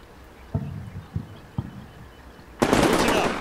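Grenade launches in the game Black Sea: three short muffled thumps, evenly spaced, then a loud broad airburst blast that rolls on for almost a second.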